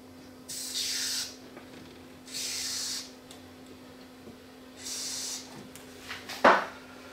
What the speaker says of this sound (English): So I sprayed on the switches